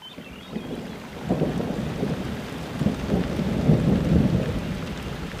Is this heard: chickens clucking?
no